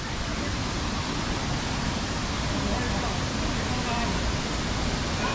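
A waterfall on a hiking trail rushes in a steady, dense roar of broadband water noise that fills the scene without pause, with no clear voices rising above it.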